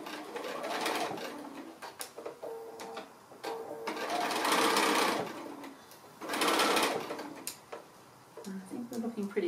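A sewing machine stitches a quarter-inch seam on a sail boat pin cushion project in short whirring bursts separated by pauses, with quiet handling noises between runs.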